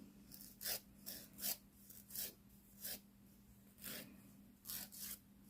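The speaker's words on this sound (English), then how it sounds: "Very, very gently. Again, not putting any pressure on the file at all. Just letting the grit on the file do its job on its own" Light, gentle strokes of a nail file across Glitterbels builder gel nails, a close, soft rasping that repeats in about eight short, evenly spaced passes with no talking.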